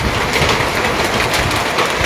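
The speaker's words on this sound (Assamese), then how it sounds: "এইটো চাওক শিল পৰি আছে, প্ৰচণ্ড আকাৰৰ শিল ইয়াত পৰা পৰিলক্ষিত হৈছে।" Large hailstones pour down during a hailstorm in Nagaon, Assam, a dense, loud, unbroken clatter with no voices.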